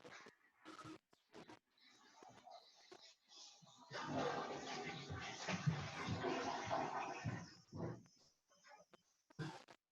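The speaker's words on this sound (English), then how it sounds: "that was a toilet flush in the background in my house" A toilet flushes somewhere in a house, a rushing, gurgling wash of water lasting several seconds, faint and in the background, while people talk over the call before and after it.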